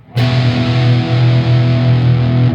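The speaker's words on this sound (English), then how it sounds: "Let me put this into like a very high distortion in my amp." A sustained electric guitar chord rings out through an amp set to ultra-high modern distortion, thick and fat without much noise. It is struck once and held loud and steady, with no other sound.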